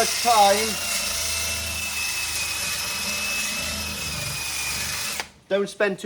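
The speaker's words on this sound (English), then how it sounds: "The reamer, that's what I call it anyway." A reamer tool cuts a hole for a pond fitting on a koi pond build, giving a steady, loud, close whine that runs for about five seconds. It then stops abruptly, and a voice follows.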